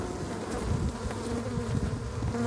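Honeybees fanning and buzzing around queen cages, a close, dense, continuous hum of many wings without pause.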